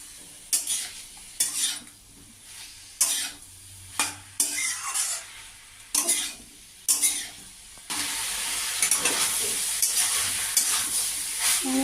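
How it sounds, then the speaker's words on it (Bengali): Pumpkin stalk chorchori being stirred in a pan, a rhythmic series of loud spatula scrapes and clanks over a soft fry, then a denser continuous sizzle toward the end, close and without speech. "এইভাবে ঢাকনা খুলে মাঝে একটু নাড়তে হবে"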